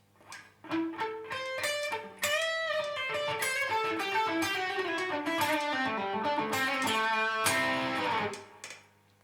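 A distorted electric guitar plays a lively lick full of bends and slides, with gliding pitches and a sustained final note over a faint hum.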